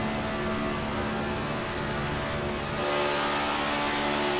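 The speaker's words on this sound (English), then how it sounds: "You hear the RPMs drop." A Next Gen Cup race car in a video game roars at high revs, then the engine pitch and RPM drop noticeably near the end, heard onboard as a loud continuous drone with no voices.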